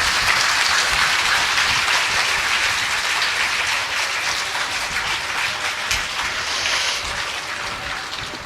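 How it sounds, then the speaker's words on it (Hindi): Steady, dense applause from a large crowd at a spiritual evening gathering, sustained without a break and fairly loud throughout. "सब एक दूसरे के उत्साह वर्धन में तालियों की गड़गड़ाहट कर रहे हैं"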